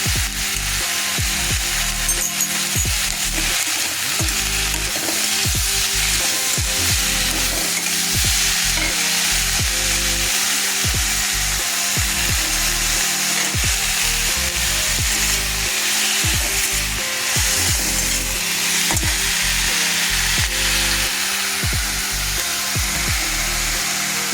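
A sugarless date chutney, with salt and date paste added, sizzles and fries in a pan while being stirred, a steady frying hiss with repeated scraping stir strokes throughout.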